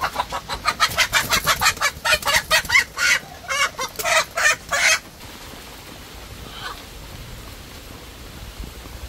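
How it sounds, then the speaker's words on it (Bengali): Chickens clucking loudly and rapidly in a burst of about fifteen agitated squawks up close, then going quiet over faint background noise. "মুরগি ধরা হয়ে গেছে।"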